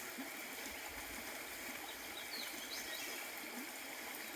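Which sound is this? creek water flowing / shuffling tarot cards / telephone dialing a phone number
creek water flowing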